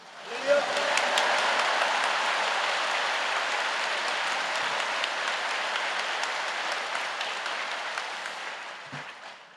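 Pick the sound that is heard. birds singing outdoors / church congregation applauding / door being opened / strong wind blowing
church congregation applauding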